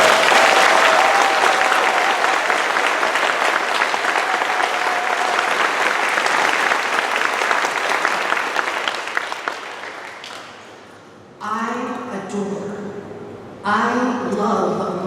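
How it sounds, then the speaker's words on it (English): An audience at a Friends General Conference plenary gathering applauds vigorously in a loud, sustained wave of clapping that gradually tapers off, after which a voice begins speaking. "Clap with vigor if you are in profound awe of the natural splendor and"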